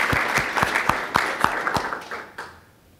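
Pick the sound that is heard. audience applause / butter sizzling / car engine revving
audience applause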